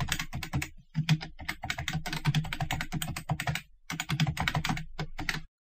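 Rapid clicking keystrokes on a computer keyboard, steady bursts of close typing with brief pauses, no talking.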